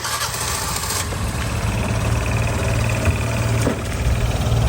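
A 2008 Piaggio Fly 150 scooter with a newly replaced crankshaft, after running without oil, starts up and settles into a steady, loud, close idle with a constant low drone throughout.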